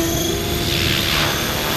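Electric motor of a T-Rex 600 RC helicopter on 12S power whirs in a loud, steady drone with a high whine, close by and unbroken, with no voices.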